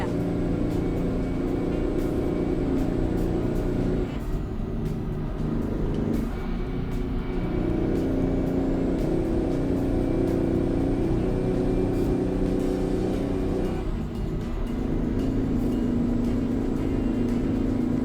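A 12V71T truck engine in American Truck Simulator drones steadily and loudly with a deep, rumbling tone throughout, its pitch shifting slightly as it changes gears and revs, with no voices over it.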